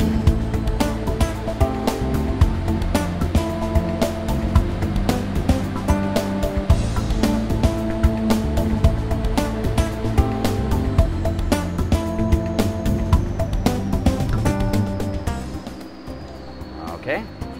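A WEILER E series lathe runs a finishing pass, producing a loud, steady mechanical drone with a sustained whine and fine rapid ticking throughout, easing off sharply near the end.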